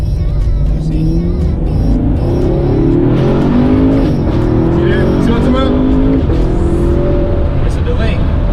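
A 2019 Camaro SS accelerates hard while racing, its engine note climbing steadily and dropping at each gear change, loud and close with a faint voice underneath.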